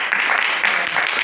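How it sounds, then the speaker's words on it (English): A church congregation at a Bible study claps hands in praise, a dense, steady burst of applause that is loud and close and has no talking over it. "Clap your hands and give God praise."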